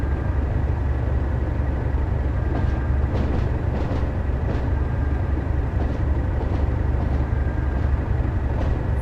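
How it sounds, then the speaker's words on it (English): Class 37 diesel locomotive hauling coal on the Tees Valley Line in Train Sim World, accelerating with a loud, steady low engine drone and faint rhythmic wheel clicks over the track. "Quite an acceleration on this actual locomotive."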